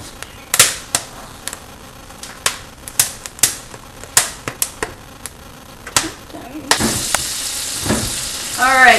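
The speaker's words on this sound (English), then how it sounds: "now we've got some good sizzling butter" Butter sizzles in a pan over a flame while making pizza from scratch, a crackling hiss with sharp pops and clicks running throughout, growing into a denser, louder fry near the end.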